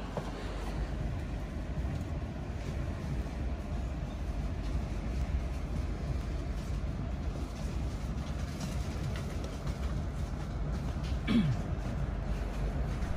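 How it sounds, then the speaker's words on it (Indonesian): Steady low rumble of a moving passenger train heard from inside a carriage on the Gumarang service in Indonesia, continuous and even, with a brief squeal near the end. "Kita sekarang sudah berada di dalam kereta api Gumarang"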